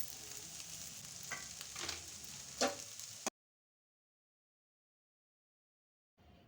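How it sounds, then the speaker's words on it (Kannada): Onion and garlic fry in hot oil for a tempering, giving a soft, steady sizzle with a few louder pops, then the sound cuts abruptly to silence before faintly returning. "ಈರುಳ್ಳಿ ಬೆಳ್ಳುಳ್ಳಿ ಫ್ರೈ ಆಯಿತು."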